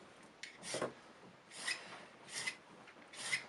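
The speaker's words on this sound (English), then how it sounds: "I'm just filing off this little bit here" A small hand file rasps a silver ring clamped against a jeweler's bench peg, in three short, separate bursts of scraping that come through close and quiet, with no voices.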